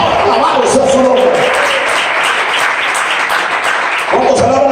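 Church congregation applauding during a sermon, a steady wash of clapping held at even loudness throughout, with a preacher's voice speaking over it at the start and again near the end.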